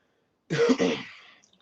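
A short, close throaty cough of two quick rough bursts, fading out within about a second, with no talking around it.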